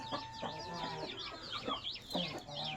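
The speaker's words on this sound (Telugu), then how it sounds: "మొత్తం పది పెట్టలు ఫ్రెండ్స్ పది పెట్టలు ఒక పుంజు" Hens and a rooster kept for sale clucking and calling in repeated short bursts, fairly close and quiet, with no talk over them.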